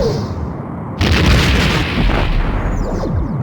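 Torpedo impact explosion from the Star Trek: The Next Generation: A Final Unity space combat game, a sudden loud boom erupting about a second in over a rumbling background, followed by a long crackling, roaring decay.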